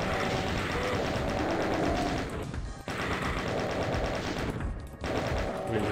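Rapid, loud gunfire in the Doom SIGIL episode on Nightmare difficulty, dense continuous bursts of shots with two brief pauses between volleys.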